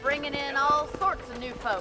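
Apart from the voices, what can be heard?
None of the usual background noises is heard.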